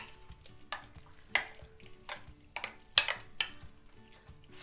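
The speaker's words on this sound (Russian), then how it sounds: "Просто беру и перемешиваю филе" Chopped chicken fillet is stirred into a starch and egg mixture with a spoon, making wet, squelchy strokes and several sharp clinks against a bowl in an uneven rhythm, close and quiet.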